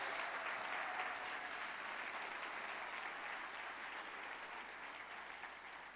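A church congregation claps steadily during a sermon, an even wash of many hands continuing for six seconds at a fairly faint, distant level.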